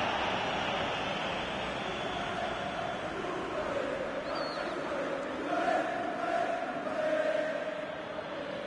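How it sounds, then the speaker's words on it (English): Away football fans jeer in a stadium crowd, a broad continuous roar of many voices with a few louder swells, steady and distant-sounding throughout. "now they're jeering because the home players are starting to waste time at every opportunity"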